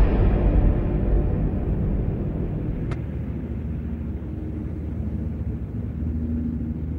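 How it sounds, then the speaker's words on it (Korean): A helicopter passes overhead at night, heard as a deep, steady low rumble with a faint rhythmic throb, continuous and fairly loud, fading slightly midway and swelling again toward the end. "헬기 소리가 들리네."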